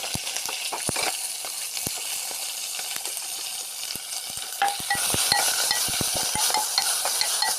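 Mustard seeds, cumin and dried chillies frying in hot oil give a steady close sizzle, with scattered sharp pops and crackles as the seeds burst, and no talking.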